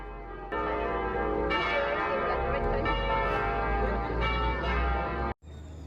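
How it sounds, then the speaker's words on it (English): Church bells ring loudly and continuously for a wedding in Copenhagen, several bells overlapping in a dense pealing that cuts off abruptly near the end. "the bridal party came out to the sound of the bells"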